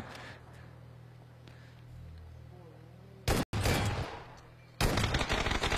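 Bursts of gunfire ring out in a PUBG video game match, rapid volleys in two loud clusters after a quieter stretch, with a voice talking over the game sound.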